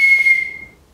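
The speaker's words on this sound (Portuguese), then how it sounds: "Pronto, temos o apito aqui pronto para utilização," A 3D-printed whistle gives one loud, clear, steady high-pitched blast that fades out within about a second, heard alone without voices.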